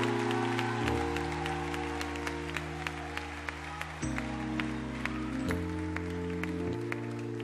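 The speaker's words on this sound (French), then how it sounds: "Applaudis le Seigneur pour s'allier dans la vie." A church congregation in Haiti claps the same steady beat throughout, the sharp rhythmic claps ringing over sustained keyboard chords that change along with the worship music.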